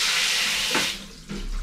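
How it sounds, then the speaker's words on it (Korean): Steady hiss of shower water running in a bathroom, close and continuous with a brief dip partway, no voices over it. "나 지금 샤워하고 있어"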